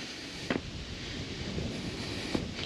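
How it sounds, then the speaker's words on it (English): Wind gusts at a lakeside campground at Virgil Point on Hugo Lake, Oklahoma, a steady low rush buffeting the microphone with a few brief thumps. "the wind is coming out of the north"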